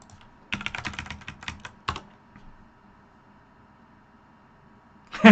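Keyboard typing: a burst of quick, fairly close keystrokes with a few louder taps, then a pause before more key clatter near the end, with no talking.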